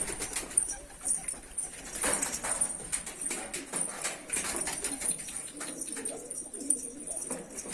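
Homing pigeons coo softly at middle distance on a hot day, with brief flutters and background noise throughout and no clear speech.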